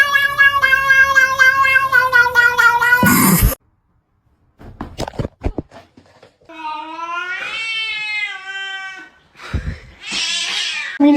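A cat gives a long, loud, wavering caterwaul that ends in a harsh burst, then a few short clicks and grunts, followed by another drawn-out yowl and a closing hiss-like burst, all close and alone.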